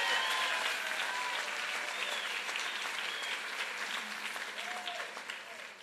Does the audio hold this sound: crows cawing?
no